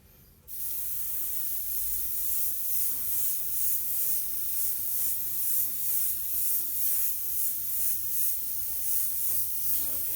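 Spray paint hissing onto artwork, a steady continuous aerosol hiss that starts abruptly and holds near and loud with faint pulsing, no talking.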